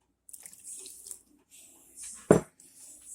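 Half a cup of room-temperature water poured into a bowl of pierogi dough mixture, a short trickling splash with a sudden louder gush near the end, close and alone.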